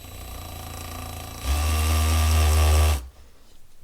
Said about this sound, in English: Now, I seem to have got that on hammer drill setting, which is not really what we need